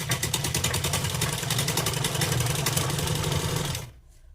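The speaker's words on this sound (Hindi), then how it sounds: "हम इस पे सिलाई लगाना स्टार्ट करेंगे।" Sewing machine stitching a salwar seam runs steadily and loudly with a fast, even mechanical whir and rattle, then stops abruptly near the end.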